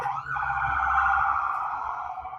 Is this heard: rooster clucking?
no